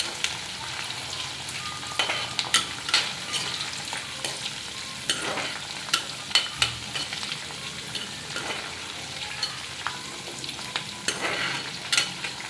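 Tempering spices frying in hot oil for gongura prawn pickle, a steady close sizzle broken by frequent crackles, pops and stirring clinks.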